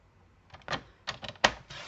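Paper being cut for a handmade scrapbooking movement card, a few short crisp snips and rasps in quick succession, close and fairly quiet, with no talking.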